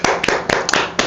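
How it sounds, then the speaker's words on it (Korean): Hands clap a few times in a loose, uneven burst, close and sharp, lasting only about a second. "우리 박수 한번"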